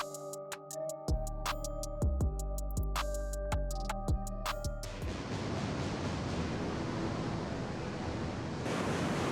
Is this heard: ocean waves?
yes